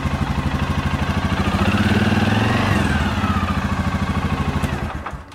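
A 2007 Suzuki KingQuad 700 ATV engine, which has charging and running issues, revs up loud and close, rising and holding for a couple of seconds before dropping back to a rapid, throbbing idle that cuts off near the end.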